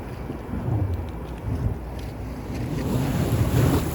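At a fishing spot at night, water churns and washes steadily while wind buffets the microphone, a continuous low rumble that swells slightly toward the end, with no voices.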